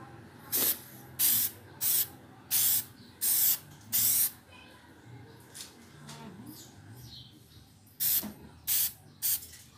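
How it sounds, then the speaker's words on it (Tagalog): K&N recharger oil sprayed onto a drop-in air filter from a Ford Fiesta Mk7, heard as about nine short, sharp hissing bursts in two groups separated by a quiet pause. "Siguro isang spray lang gagawin ko rito."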